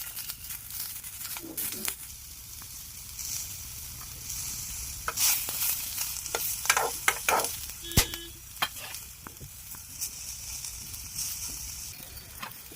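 Garlic frying in a little oil for chukka kura (sorrel leaf) chutney, a soft crackling sizzle with stirring scrapes and a few brief sharper bursts, fairly quiet and close throughout.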